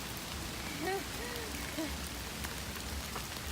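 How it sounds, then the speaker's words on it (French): Steady, faint rain falling on a path through tropical forest, a soft continuous patter with a few bird chirps and no talking. "on a de la chance, il pleut"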